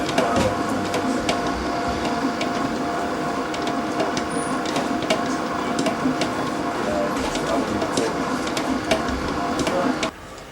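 A dough mixing machine kneads brown bread dough, giving a steady mechanical whirring and rumbling with frequent sharp clicks and knocks, running continuously before cutting off abruptly near the end.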